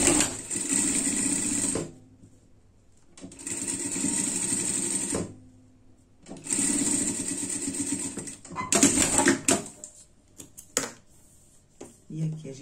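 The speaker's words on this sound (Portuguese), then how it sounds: "E vamos costurar aqui o forro" Sewing machine stitching the lining of a pet harness in three sustained close runs of about two seconds each, followed by a few shorter choppy bursts and clatter.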